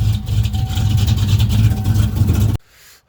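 A car engine with SLP exhaust idles for about two and a half seconds with a low, steady rumble after a 3G alternator install, then cuts off abruptly to near silence.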